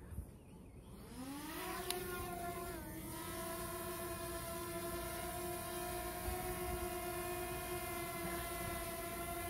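A DJI Mavic Mini drone, flown with an Xbox controller, spins up its motors in a rising whine that settles into a steady, even buzzing hover, close by and alone.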